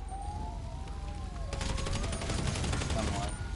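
Gunfire bursts from a GTA V Online cops-and-robbers match, with rapid shots from about the middle onward over continuous game noise and a siren-like tone.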